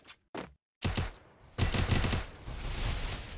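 Rapid automatic gunfire from the mobile battle royale game Free Fire, with two short bursts, a brief pause, then sustained loud volleys that run continuously until the end, dense and close, with no talk over them.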